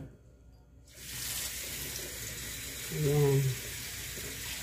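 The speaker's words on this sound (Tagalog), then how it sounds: "Atin uli siyang hugasan." Homemade bean sprouts being rinsed under a running kitchen tap, water splashing steadily into a sink after a quiet start, with a short spoken word over it.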